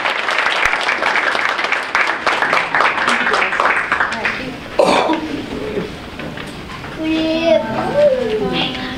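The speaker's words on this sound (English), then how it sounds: "Can we give them another round of applause?" Audience applause breaks out after a string ensemble performance at a school spring arts night, a dense burst of clapping that fades into scattered claps, with voices and a cough nearby.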